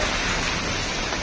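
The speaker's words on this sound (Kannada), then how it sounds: "ಅಲ್ಲಿ ಮಳೆ ಬರ್ತಿದೆ ಫುಲ್." Heavy rain pours down steadily outdoors, a dense, constant hiss with no breaks, loud and close throughout.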